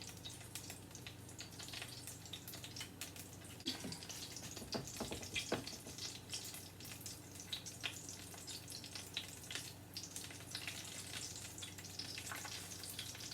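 Steady sizzling of chicken croquettes frying in a pan, a constant hiss with occasional soft clinks and scraping.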